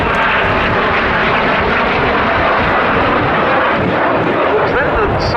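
A BAC Strikemaster jet flies a rolling turn-away manoeuvre at the Cosford Air Show 2025, giving a loud, continuous jet-engine roar that fills the whole stretch with little change in level.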